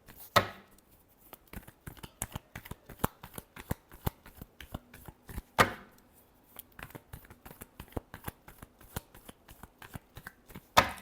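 A deck of tarot cards is shuffled by hand, close up, in quick crisp riffles and slaps. The rhythm is uneven, with a louder burst at the start and another around the middle.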